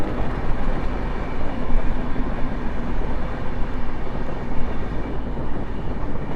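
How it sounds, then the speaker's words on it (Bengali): Kanchankanya Express rolling on a curve into Banarhat station in the Dooars, a loud, continuous broadband rumble and rattle of the carriages heard from on board, with no talk. "ট্রেন এখন কার্ভ নিয়ে বানারহাট স্টেশনে ঢুকছে।"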